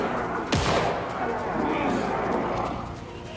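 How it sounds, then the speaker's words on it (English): A single sharp gunshot cracks early in Alan Wake 2, followed by a steady rumble of game ambience and faint background activity. "I heard gunshots"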